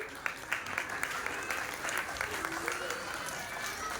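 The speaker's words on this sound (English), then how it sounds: "A louder applause for the children once again." Sustained applause from the audience at a school class assembly for the children: a crowd of clappers producing an even, continuous rattle of hand claps, with faint voices mixed in.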